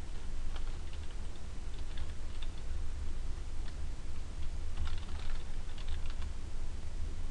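Typing on a computer keyboard, heard as faint, quick clusters of key clicks in uneven bursts over a steady background hum, with no talking.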